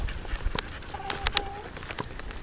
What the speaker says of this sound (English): Never chase after your chickens.